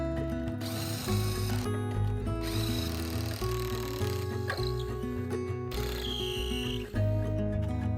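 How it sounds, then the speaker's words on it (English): Power drill boring pocket holes into wood boards, a close, loud whirring in bursts with short pauses and a ratcheting mechanical edge between runs. "I created pocket holes on either end of the back support boards and the bottom panel."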